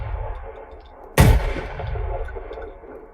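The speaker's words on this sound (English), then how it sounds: "This is our FAS-12 from the Modern Warfare 3. It's a 12-gauge shotgun, right?" A single heavy 12-gauge shotgun blast from the FAS-12 in Call of Duty: Advanced Warfare, a loud close boom with a long rumbling tail over a steady ambient bed.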